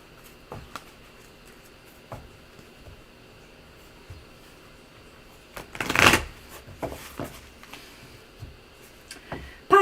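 A tarot deck being shuffled in a quiet room, soft scattered card ticks and slides with a louder riffle burst midway and another at the end, no voices.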